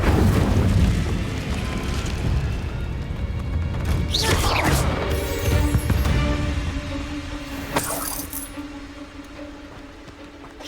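Incendio fire spell cast in Hogwarts Legacy on Nintendo Switch, a loud rumbling burst of flame with whooshing bright streaks and a booming body that fades, followed by a rising magical swish.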